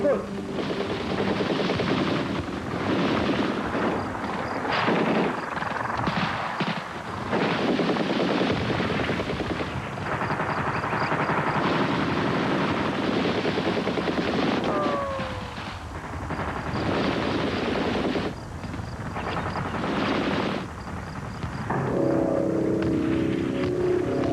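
Soviet Hind helicopters and gunfire in Afghanistan, with bursts of rapid machine-gun fire and heavy shots over a droning rotor, loud and continuous, partly under a narrating voice.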